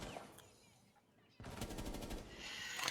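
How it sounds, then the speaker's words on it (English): Rapid automatic gunfire erupts after a brief quiet stretch in an esports match, a fast rattling burst of game weapon shots that continues to the end. "A little bit of a trade back and forth of gunfire"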